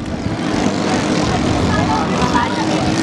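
Racing speedboat from a 3-meter super-speed boat race tears past at full throttle on a river, a loud, steady engine roar filling the whole stretch with little change in level.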